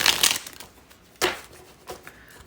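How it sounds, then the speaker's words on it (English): Cards shuffled during an energy card reading: quick riffling bursts, one at the start and two shorter ones later, close and crisp, with no speech. "One more shuffle."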